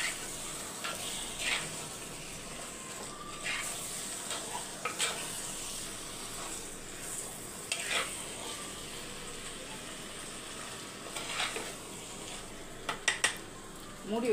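Tomato rice is stirred in a pot, making soft scraping and scattered clinks of a spoon against metal over a faint low sizzle, with several sharper knocks near the end and no voices.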